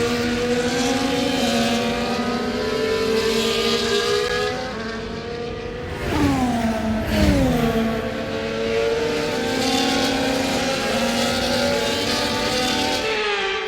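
Race car engines in F1 24 on a warm-track formation lap, a loud continuous multi-car drone with layered engine harmonics that rise and fall, briefly dipping and surging mid-clip as cars pass close.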